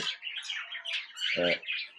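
A budgerigar chatters and squawks continuously at close range, with rapid scratchy chirps and one harsher buzzy call near the end.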